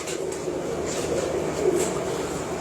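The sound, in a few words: pigeons cooing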